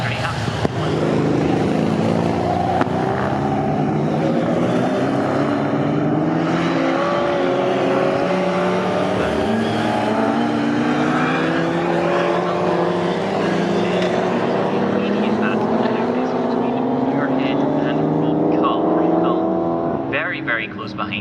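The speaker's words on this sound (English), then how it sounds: "it is a lovely car, the Triumph TR3 that he's piloting, so keep an eye out for that one, humming along the pit straight" A Triumph TR3 and other classic pre-1963 race cars run at Snetterton circuit, engines droning steadily and continuously with shifting pitch as they hum along the pit straight, under constant commentary.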